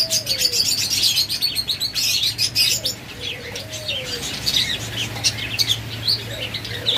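Pet lovebirds and budgerigars kept for sale chirp and tweet nearby in quick, overlapping calls, with a few softer coos and brief wing flutters over a steady low hum.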